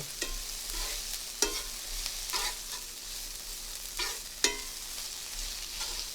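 Garlic and onion cooking in a pan for a zucchini frittata, with a soft steady sizzle and occasional sharp scrapes of a utensil stirring, close but fairly quiet, no talking.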